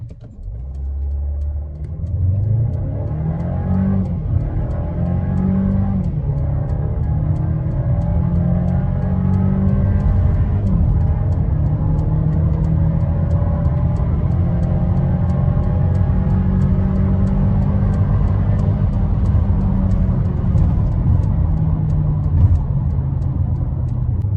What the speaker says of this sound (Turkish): Spor moda alıp bir 0-100 hızlanmasını size göstereyim.